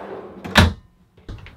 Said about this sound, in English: So we've got one top thinner profile drawer